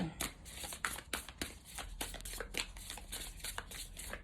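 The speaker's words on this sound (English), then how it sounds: "they needed a good shuffle" A brand-new tarot deck shuffled by hand, heard as a quiet, rapid run of crisp riffling card slaps repeating steadily throughout.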